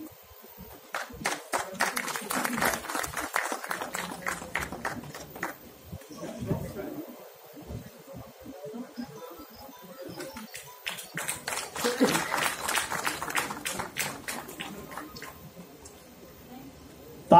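Audience at a BJP political event clapping in long rattling bursts, loud at first, fading mid-way, then swelling again, with someone speaking over the hall between rounds.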